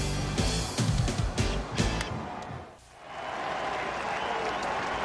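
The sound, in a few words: stadium crowd cheering a field goal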